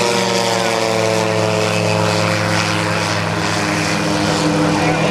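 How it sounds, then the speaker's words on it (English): Loud, steady droning of an autogyro's propeller engine as it flies overhead, close and continuous, with a buzzing rotor hum throughout. "This is an autogyro."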